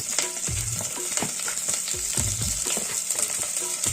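Garlic frying in a pan with curry leaves, green chilies and whole spices for coconut milk biryani: a constant close sizzle with repeated stirring knocks and scrapes, no talking.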